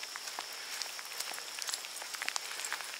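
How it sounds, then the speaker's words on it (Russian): Light rain falling outdoors, a soft, steady patter of drops with scattered close taps, fairly faint and with no talking. "А, в дождь попали."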